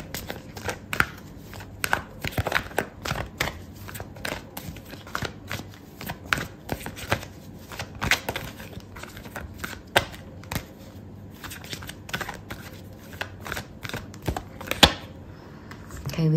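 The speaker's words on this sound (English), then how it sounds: "so I'm going to pull out another card for you." Tarot cards are pulled from a deck at close range, giving a steady run of soft, quick clicks and papery slides with no talking.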